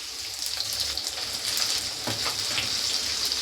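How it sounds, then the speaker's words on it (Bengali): Salted potato pieces fry in hot oil in a pan, making a steady, close sizzle with faint stirring or spatter accents throughout. "ভালো করে ভেজে নেব, এই ভাজাতেই যেন সেদ্ধ হয়ে যায়।"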